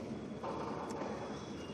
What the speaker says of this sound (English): this train has departure